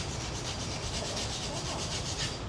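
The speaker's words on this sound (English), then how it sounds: "And then cutting by the hand saw." A steel hand saw cuts a mother-of-pearl inlay design with a quiet, steady rasping and scraping, continuous fine strokes with no talking.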